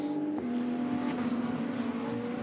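GT2 race cars at Misano in the Fanatec GT2 European Series, engines droning at a steady high pitch as they run toward the line, with a shift in tone partway through.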